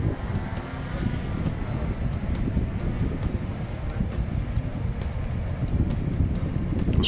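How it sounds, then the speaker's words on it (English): Steady wind buffeting outdoors on a fishing shore during drone fishing, a continuous low rumble of gusts across the microphone with no voices. "It was quite windy."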